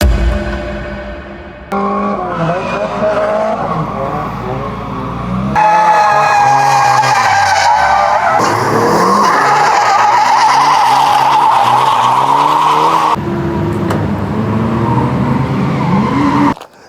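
A car at Ebisu circuit in Japan roars loudly and close, its engine revving and shifting in pitch over sustained tire squeal and skidding, with no talking.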